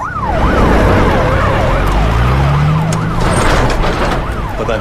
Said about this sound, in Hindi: लतीफ वो एम्बुलेंस लेके चला गया।